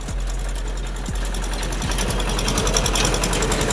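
A tractor engine labours nearby as it pushes a cement-laden trolley out of a rut, a steady loud diesel drone with irregular knocking thumps running throughout and no talk.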